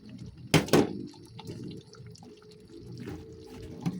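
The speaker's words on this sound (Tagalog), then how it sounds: "Kulo na siya." Water simmering and bubbling in a cooking pot of rice for Visayan binignit. A couple of sharp splashy knocks come early, then a steady low, rolling bubble runs underneath.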